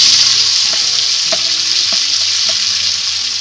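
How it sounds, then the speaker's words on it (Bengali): Fish spice paste fries in mustard oil, a loud, dense, continuous sizzle with a few soft clicks of stirring scattered through it. "এবার সমস্ত উপকরণগুলো তেলের মধ্যে ভেজে নেব।"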